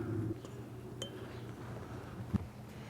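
Tony Chachere's seasoning is spooned into glass canning jars, giving two faint, isolated clinks of a spoon on glass against a quiet room.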